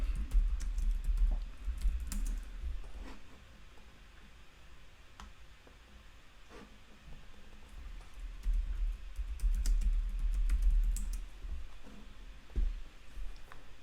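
Faint keystrokes on a computer keyboard tapping at irregular pace over a low steady hum, with occasional louder clicks and short pauses.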